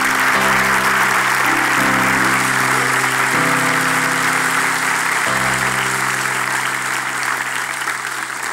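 Studio audience at a Turkish television show breaking into loud, sustained applause, a dense continuous roar of clapping with music tones underneath.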